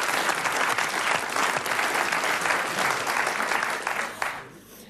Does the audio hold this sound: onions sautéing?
no